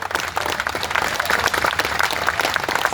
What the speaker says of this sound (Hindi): साथियों, एक ताली आपके तरफ से जोरदार होना चाहिए।